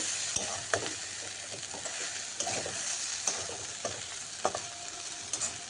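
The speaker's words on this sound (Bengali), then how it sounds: "আর একটু ভেজে ভাজা হোক" Steady oily sizzle of potatoes frying in a pan, with occasional scraping and stirring clatters from a utensil, fairly close and continuous.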